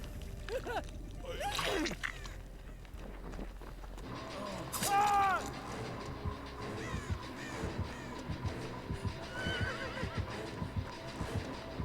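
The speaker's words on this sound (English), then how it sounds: "It has a pretty cool decrepit dying diseased horse thing." In the horror game Dead by Daylight, a decrepit, diseased horse gives a loud, strained whinny among eerie ambience, with further wavering calls and clip-clop-like knocks following, and crow caws nearby.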